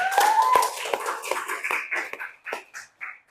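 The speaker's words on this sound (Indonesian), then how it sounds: "Tepuk tangan dulu" Brief round of hand clapping from a classroom of trainee teachers, starting as a dense patter and thinning into a few scattered claps, near and moderately loud.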